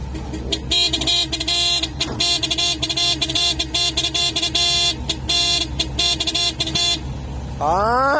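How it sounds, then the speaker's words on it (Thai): A loud vehicle horn plays a melodic tune in repeated bursts over engine rumble, ending with a rising, sweeping tone. "เสียงแตรหวานหวานครับ จากจารกคันนี้"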